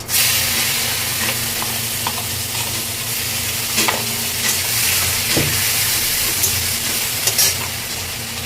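Onions frying in a pan with whole spices (cardamom, cinnamon, black pepper, bay leaf) for rajma fried rice, a loud close sizzle with stirring scrapes throughout and no voices.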